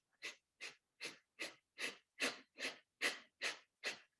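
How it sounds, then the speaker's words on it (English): Breath of fire breathwork: ten quick, forceful nasal exhalations in an even, rapid rhythm, close and moderately loud, with no talking. "deep breath into the belly and begin that breath of fire."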